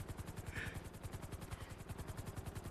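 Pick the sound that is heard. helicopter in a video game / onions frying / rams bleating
helicopter in a video game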